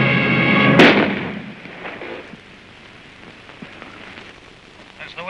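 A single sharp gunshot cracks out loudly near the start, then fades into a rough, rumbling background with faint scattered noise.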